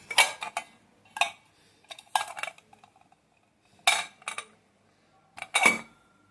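Vintage bronze panchapatra, a small ritual water vessel, handled and set down: scattered sharp metallic clinks and taps in irregular bursts close up, separated by quiet pauses, no speech.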